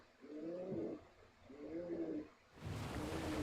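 A pet pigeon coos twice in a room, each soft throaty burble lasting under a second with a pause between, followed by a burst of broadband noise.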